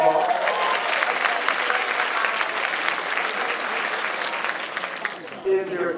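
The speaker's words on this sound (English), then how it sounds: "I think that deserves an applause" An audience claps at a summer leadership conference, a steady, dense round of applause filling the hall for several seconds before tapering, with a brief voice near the end.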